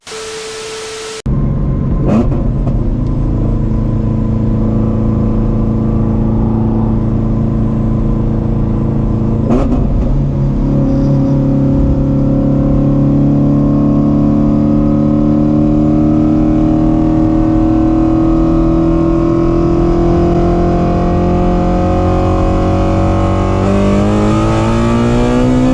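An 800 hp Shelby GT350 Mustang accelerates hard on a street, a loud close engine roar climbing steadily in pitch through the gears over about 25 seconds, with no talking.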